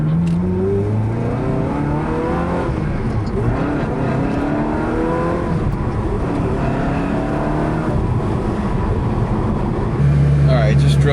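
A car engine revs hard and holds high rpm during aggressive driving, a loud, continuous roar whose pitch climbs and falls through gear changes, then settles onto a steady drone at the end.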